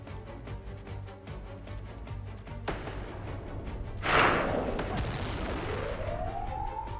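Sidewinder missiles launch in an aerial fight in Xenonauts 2: sudden rushing bursts cut in one after another, then a bright whooshing blast and a rising tonal whine fade out over a low engine drone.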